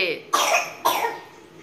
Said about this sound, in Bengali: উফ কাশি হচ্ছে